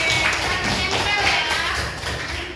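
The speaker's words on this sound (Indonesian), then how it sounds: "Tepuk tangan" A classroom of students gives a group of presenters a dense wash of applause, close and continuous, with voices mixed in beneath the clapping.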